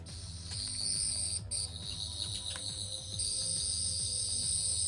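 A Rubbertoe Replicas Ninth and Tenth Doctor wide-slider Aztec toy sonic screwdriver emits a shrill, warbling electronic whine, steady and continuous, with a faint pulsing hum underneath.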